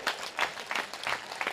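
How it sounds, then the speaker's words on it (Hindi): A crowd of listeners at a religious assembly of saints claps together, the applause rising in five rhythmic surges of dense hand claps, moderately close and without talk. "तुम ताली ठोको अपने लिए"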